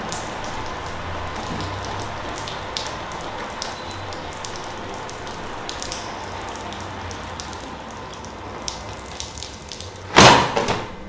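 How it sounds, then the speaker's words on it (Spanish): Steady rain falls throughout with a dense, even patter, and a sudden loud knock or splash near the end breaks the texture. "Dejaré que la lluvia moje un poco mi cuerpo."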